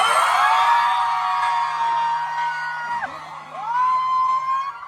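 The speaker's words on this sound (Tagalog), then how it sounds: "Pwede ba namin marinig ulit kung gaano kalakas ang sigawan at cheers nyo?" A large concert crowd at a show in Bangkok cheers and screams loudly, a dense wall of high-pitched shrieks and whoops that dips briefly and then swells again.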